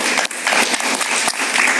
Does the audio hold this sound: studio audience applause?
yes